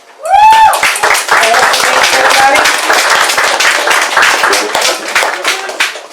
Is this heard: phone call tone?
no